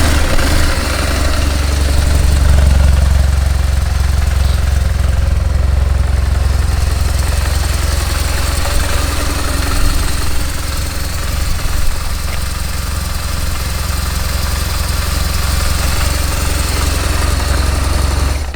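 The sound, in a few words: 2005 BMW R1200GS motorcycle engine started and idling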